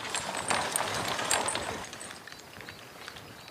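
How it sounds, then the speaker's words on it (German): Hooves clip-clop in an uneven, busy rhythm as a two-horse team moves along, louder at first and then fading somewhat toward the end. "Bis dahin wird David lernen müssen, ein Gespann mit 2 Pferden zu fahren."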